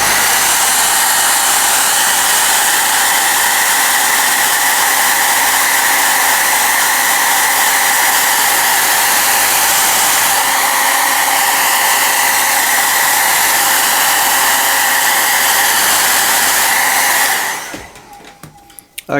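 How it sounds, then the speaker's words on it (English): A hairdryer blows steadily and loudly on freshly painted layers of a Warhammer Bladegheist Revenant miniature, a constant broad whoosh running for about seventeen seconds before it clicks off abruptly. "going to knock this back again with the hairdryer"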